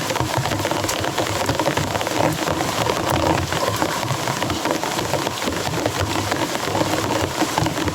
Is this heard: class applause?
no